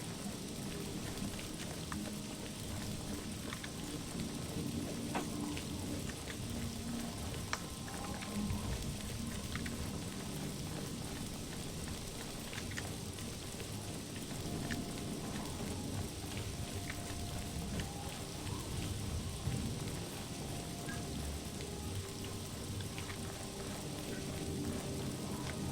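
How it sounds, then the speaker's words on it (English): Steady rain falls through a forest at night in the video game Oblivion, a constant broadband hiss of drops with no clear breaks, moderately loud and alone without talk. "Just walking through a forest at night in the rain"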